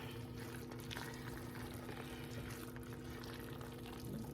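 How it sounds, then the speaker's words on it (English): Ground beef stirred with a spatula in a pot for a dill pickle bacon cheeseburger soup, a faint continuous sizzle with soft scraping movements underneath, quiet and steady with no talking. "Let's mix this up."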